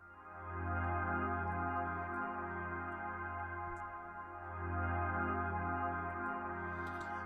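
Soft synth pad chords from Kontakt 5 swell and sustain in a long, smooth drone, faint and warm with a gentle volume rise at the start and again midway.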